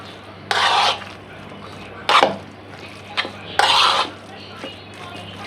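A spoon mixing hot oil, meat and spices for momo filling in a bowl, heard as several separate bursts of scraping and clinking, each about a second long, over a low steady hum.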